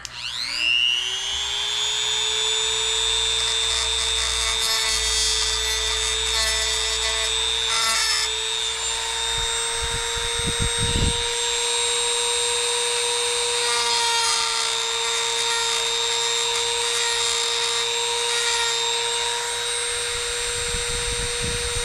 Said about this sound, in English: I'm gonna try and grind the ridges off of it